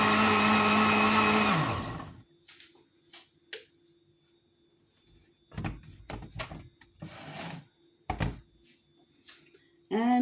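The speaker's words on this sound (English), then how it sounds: "My blender is powerful, so this juice is already blended." A loud blender blending strawberry, apple and orange juice whirs steadily for about two seconds, then cuts off, followed by scattered clinks and handling noises in a quiet room.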